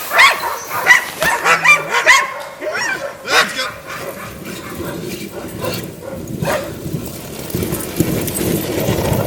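A dog gives a few short yipping barks and whimpers indoors near a bed, mixed with people talking.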